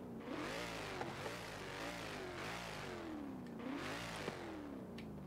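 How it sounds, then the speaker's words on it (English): A Vauxhall VXR8 V8 engine in Forza Horizon 4 roars and revs in repeated rising and falling sweeps, a continuous moderately loud engine drone with no talking. "if we start up, we can hear that roaring V8"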